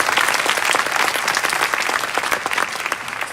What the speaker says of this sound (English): so just please round of applause